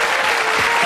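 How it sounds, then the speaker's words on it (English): Studio audience on the Bullseye game show applauding steadily, a dense, loud wash of clapping with no gaps from start to finish. "Give them a nice round of applause."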